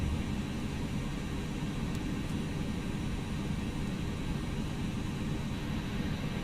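A ToLiss A319 airliner engine starts up in the X-Plane 11 flight simulator, heard as a steady, even broadband roar and rumble that holds at a constant level throughout, with no voices.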